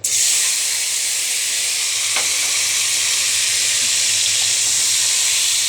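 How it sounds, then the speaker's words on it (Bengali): Chopped tomatoes fry in a pan, after potatoes were fried for homemade egg noodles, giving a loud, steady, close sizzle and hiss throughout with one brief clink partway and no talk. "টমেটোগুলো একটু হালকা করে ভেজে নিব।"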